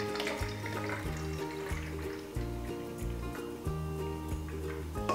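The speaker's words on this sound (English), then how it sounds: "So I'm just gonna pour in one can of pineapple juice." A can of pineapple juice is poured into a spray bottle for a smoked spiral ham glaze, a steady liquid trickle running under loud, continuous background music.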